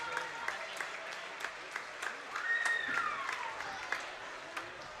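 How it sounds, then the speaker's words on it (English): Audience applause in a school gym at a Plum vs Indiana basketball game, a moderate, fairly distant patter of clapping with scattered sharper claps and a whistle-like tone midway. "Let's give him a nice round of applause."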